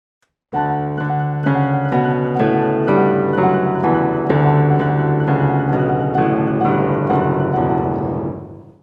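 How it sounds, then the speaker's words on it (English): Sustained orchestral chords sound loud and full in an opera coda, stepping downward in a heavy, continuous progression in the lower parts before fading at the end. "in the middle of the coda, we've got these big descending chords in the lower part of the"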